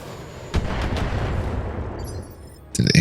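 BattleTech mechs fire their weapons: a sharp booming shot, then a few rumbling blasts that fade, followed by another loud burst of fire at the end.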